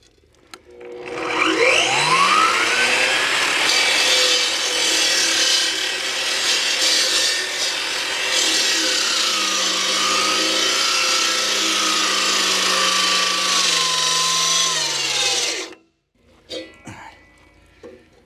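A water-fed power saw cuts steadily near rebar on an off-grid barn house build, a loud sustained whining grind that shifts pitch as the blade loads, then stops abruptly, followed by faint clatter.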